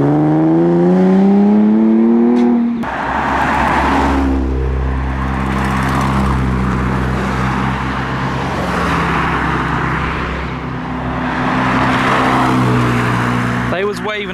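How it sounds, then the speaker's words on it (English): Cars pull away from Castle Combe circuit after a spring action day, including a Jaguar Mark II, their engines rumbling steadily and fairly close for most of the stretch while people talk over them throughout. "Check out this Mark II driving past"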